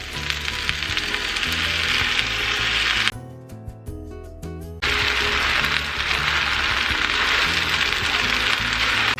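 Stir-fry sauce sizzling in a hot pan with shrimp and chicken lo mein, a loud continuous crackling hiss, briefly interrupted by a few sharp clinks and scraping before the sizzle resumes.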